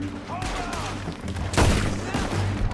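Gunfire in a Red Dead Redemption II shootout, a few loud cracking shots with echoing booms, mixed with game sounds and a faint voice.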